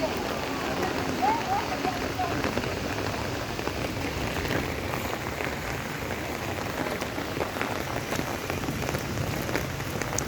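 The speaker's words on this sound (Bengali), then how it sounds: "প্রচুর পরিমাণ বৃষ্টি হচ্ছিল" Heavy rain falls outside a mosque after Friday prayers, a dense, unbroken patter drumming on surfaces close by, loud and steady throughout with no break.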